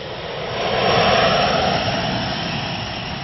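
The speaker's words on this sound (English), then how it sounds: "You get thrown to the back of your seat as the jet fighter roars across the runway and then takes off." An F-16 fighter jet roars down the runway on takeoff, a loud, broad, steady engine rush that swells near the start and holds strong throughout, with no voices.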